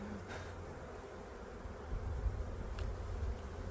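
A low, steady drone of honeybees hums around an autumn hive, faint and continuous with slight swells, no voices present.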